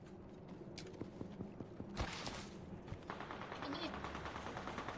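Video game gunfire, rapid automatic bursts striking the player character in a shooter match, heard fairly close as dense crackling shots with mechanical clanks and game voice callouts layered over them.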